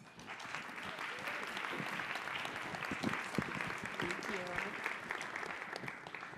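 A symposium audience applauds as a keynote speaker is welcomed, a full, steady roar of many hands clapping throughout, with a voice speaking faintly underneath.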